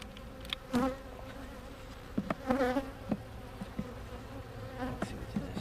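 Honeybees buzz steadily around an open hive during routine hive work, a close, continuous drone with wavering pitch and a few louder passes as individual bees fly near, with no talking.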